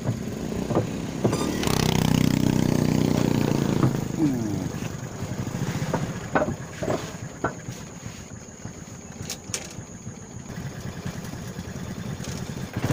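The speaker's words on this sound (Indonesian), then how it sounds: "perahu sudah mulai mendekat" An approaching boat's motor engine drones and rises in the background, with scattered voices and other noises over it.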